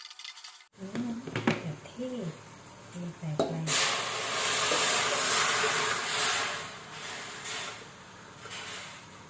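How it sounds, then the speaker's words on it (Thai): Chinese kale blanching in a pot of boiling water gives a steady, fairly loud hiss and bubbling roar that starts a few seconds in and holds to the end, after a voice speaks over quieter kitchen background. "จะมาลวกผักกันก่อนนะคะ ก็ ลวกคะน้าไว้ก่อนนะ"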